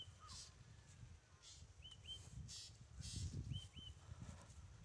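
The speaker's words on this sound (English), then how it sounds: "there is a bird is chirping on the tree" Small Indian bird chirping from a tree outdoors, a few short rising chirps in pairs, fairly faint, over steady low rumbling background noise.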